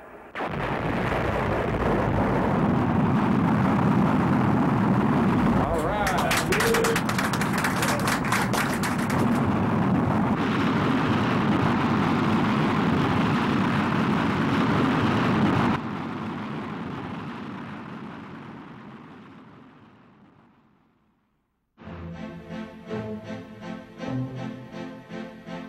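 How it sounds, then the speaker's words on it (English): Rocket launching from Vandenberg Air Force Base in California, a loud, deep, crackling roar that holds steady, then slowly fades into the distance before cutting to silence and a different sound. "After the launch from Vandenberg Air Force Base in California"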